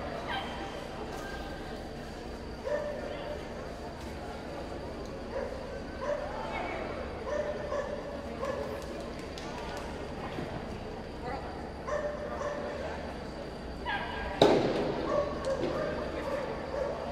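Dogs bark and yip at a dog biathlon competition, short scattered barks rising over steady crowd noise and an announcer's voice, with one louder bark burst near the end.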